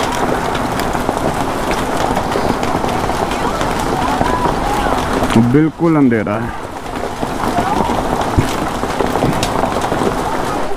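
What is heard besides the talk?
hailstorm with large hailstones falling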